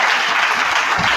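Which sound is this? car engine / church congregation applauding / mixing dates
church congregation applauding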